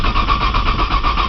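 Car engine cranking on a cold start that won't catch, the starter churning in a steady rapid pulsing whir, close and loud for a brief moment.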